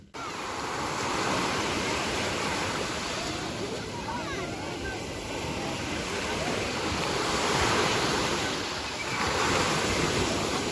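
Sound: sea waves at the beach

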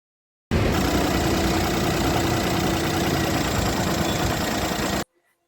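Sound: car engine idling

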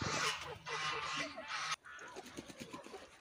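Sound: geese honking

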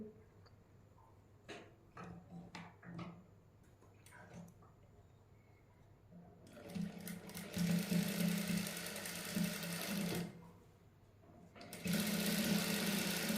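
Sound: sewing machine stitching lace onto a sleeve

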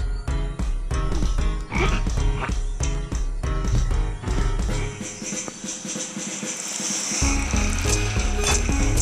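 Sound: frog croaking in video game Draw a Stickman Epic 2

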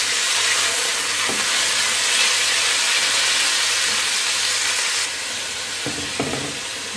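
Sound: chicken cooking in a pan for hot and sour soup

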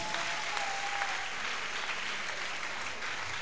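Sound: audience applause

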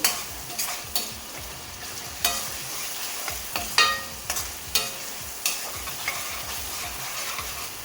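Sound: stirring fish curry gravy in a pan

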